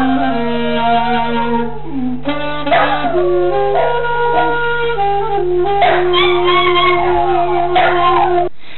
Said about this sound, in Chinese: 可是后来金先生发现小狗不但叫，它还会随着音乐哼唱。